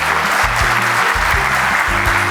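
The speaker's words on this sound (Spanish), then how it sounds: "Un aplauso, por favor, para el doctor." Audience applause for a speaker at a Colombian coffee-processing bioeconomy talk, steady loud clapping from a crowd throughout with a low hum beneath it.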